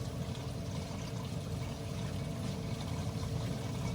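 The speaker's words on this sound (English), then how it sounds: "So the pumps and the water falling down from the tank is louder than this." Water falls from an aquarium tank into the sump below, a steady rushing, splashing wash with a heavy low rumble that stays constant throughout, with no one talking.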